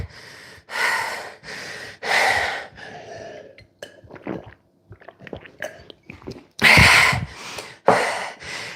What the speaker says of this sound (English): you can see my heavy breathing